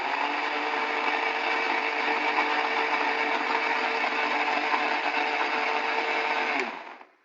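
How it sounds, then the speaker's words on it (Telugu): A kitchen mixer grinder whirs steadily and loudly, blending sweet ripe mango for shrikhand, running continuously for about six and a half seconds before winding down and stopping. "ఇది మనం ఒకసారి మిక్సీ పట్టేసుకుందాం"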